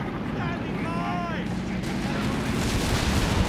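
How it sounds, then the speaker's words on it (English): Artillery barrage in the strategy game Company of Heroes 3 during a 2v2 match, a dense, continuous roll of rumbling booms and blasts lasting throughout, with a voice faintly over it. "Bad scatter on that barrage"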